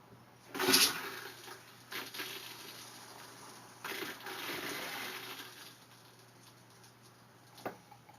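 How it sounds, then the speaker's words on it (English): A camper toilet flushes during winterizing, with a short clunk followed by a few seconds of gurgling rush as water or antifreeze runs through. It is faint and close, with quiet clicks between. "Flush the toilet."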